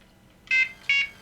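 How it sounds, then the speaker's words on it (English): An NGT digital fishing bite alarm gives two short, loud electronic beeps about a third of a second apart, close up in a quiet room. "Let's see if it beeps this time."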